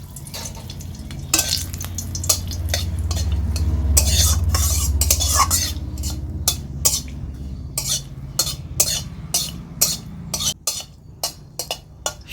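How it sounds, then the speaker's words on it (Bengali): Three dried red chillies go into hot mustard oil in a kadai, giving a low sizzle under a run of sharp metal spatula stirs and scrapes against the pan, the clatter growing more spaced toward the end. "তেল গরম হয়ে গেছে, দিয়ে দিচ্ছি 3টে শুকনো লঙ্কা।"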